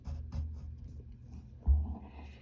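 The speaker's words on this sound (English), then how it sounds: "And then you'll draw the stitches themselves." Pen or pencil marking stitch lines on a drawing of Eeyore from Winnie the Pooh: soft, close scratchy strokes in short bursts, quiet and dry, with one firmer tap near the end.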